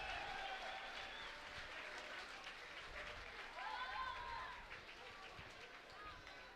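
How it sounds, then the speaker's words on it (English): Crowd applause and cheering at a kickboxing event fills the venue for two fighters, steady clapping with faint whistles rising near the middle and easing toward the end. "a round of applause for 2 great fighters and 1 awesome fight."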